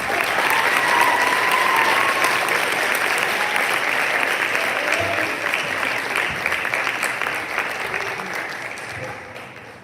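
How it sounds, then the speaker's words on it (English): Loud, sustained applause fills a room at an award ceremony, many hands clapping densely near the start before the ovation gradually thins and fades toward the end. "One more round of applause."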